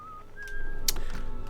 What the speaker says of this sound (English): this is where the whistling dude is